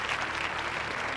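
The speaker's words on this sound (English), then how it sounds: "everybody give a round of applause" Applause from the audience at a real estate investment firm's tenth anniversary celebration, a dense, steady burst of clapping from a crowd throughout the short moment.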